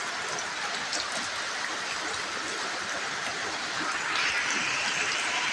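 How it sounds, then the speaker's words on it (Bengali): Heavy rain falls during flooding, making a constant dense wash of drops that holds at the same level throughout and grows slightly louder toward the end. "এত পরিমাণে বৃষ্টি পড়ছে"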